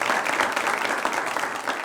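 An audience at a forum on the judicial system breaks into brief, steady applause after a speech, many hands clapping together at moderate loudness.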